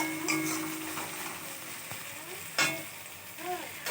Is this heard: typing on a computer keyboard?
no